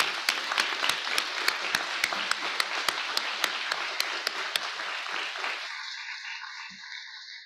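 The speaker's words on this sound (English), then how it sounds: "just give them a round of applause." Applause at a college convocation ceremony in Perth, a steady wash of many hands clapping with sharp individual claps standing out, fading to quiet after about six seconds.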